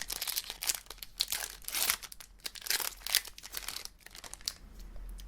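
A Pokémon card booster pack wrapper is torn open up close, giving quick bursts of crisp crinkling and tearing foil that come in irregular flurries before settling into a few quieter rustles.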